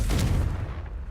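A single explosive Confringo spell bursts with a heavy boom in Hogwarts Legacy, loud at first, then quickly fading into a low rumble.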